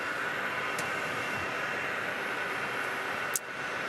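A jet airliner arrives at Phoenix Sky Harbor International Airport, a steady broadband engine roar held at constant level throughout, distant and hazy, with no voices.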